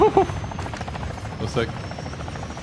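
Enemy attack helicopter in the DMZ video game, a steady rotor thrum with buzzing engine tone beneath game radio voices, moderately loud and continuous over the short span.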